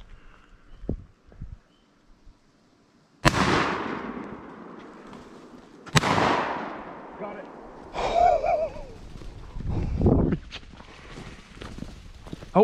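Two loud shotgun blasts fired at a grouse during a hunt in the Maine woods, each a sharp close crack with a decaying tail, a few seconds apart, with voices and rustling movement around them.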